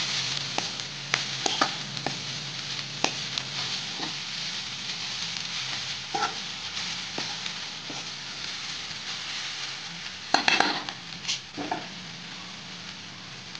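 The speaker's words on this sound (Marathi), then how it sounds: "तर आता आपण ही भाजी मिक्स करून घेऊया।" Kunjara vegetable bhaji is stirred in a hot pan, with a steady sizzle running throughout and a spatula scraping and clacking against the pan, sharpest near the end.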